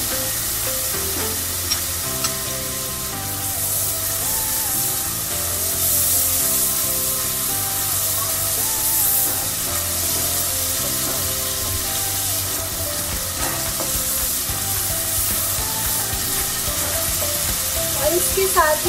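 Ginger garlic paste sizzling in a pan of browned onions, a steady close fry with stirring scrapes throughout.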